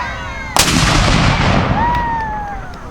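A Civil War reenactment artillery cannon from a New York independent battery fires once, a single loud near blast that rolls into a long fading rumble, with a faint high whistle trailing afterward.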